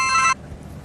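A telephone rings with a bright electronic tone that cuts off abruptly after about a third of a second, leaving quiet room noise.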